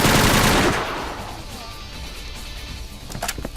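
A loud burst of machine-gun fire in the Übersoldier 2 video game, dense rapid shots for under a second, then a ringing decaying tail with a few fainter impacts near the end.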